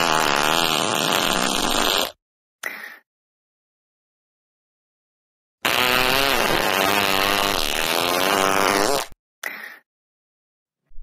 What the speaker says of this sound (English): How dare you fart in the car while on the way to Aquaman and the Lost Kingdom?